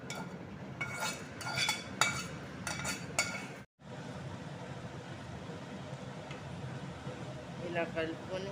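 A spoon scrapes and clinks while stirring a hot oil tempering into gongura (roselle leaf) and red chilli pickle, with steady mixing noise under a person talking.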